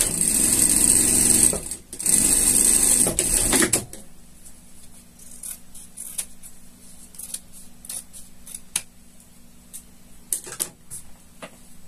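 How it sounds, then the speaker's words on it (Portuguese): Sewing machine runs loudly for a few seconds in two fast bursts of stitching a safety seam on fabric for a shark costume, then stops, leaving quiet clicks and faint handling noises. "vamos passar uma costura de segurança aqui"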